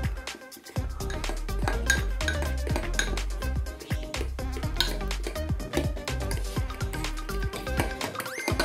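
A spoon mixing Szechuan sauce with Chinese five spice in a bowl, giving a fast, vigorous run of clinking and scraping taps against the bowl, close and continuous throughout.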